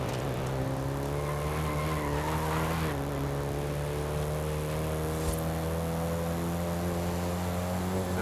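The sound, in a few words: Volkswagen Golf GTI drifting, tires skidding, video game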